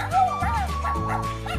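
Little Live Pets Sweet Talking Puppy, a white-and-pink toy dog, giving short electronic yips and whimpering barks in quick succession, close and fairly loud.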